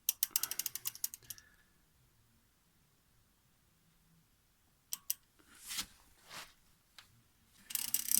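Ratchet turning a 24 mm socket on the driveshaft nut of a VW Golf 6 1.6 TDI, a rapid burst of close clicks at the start, then quiet and a few scattered clicks and scrapes later.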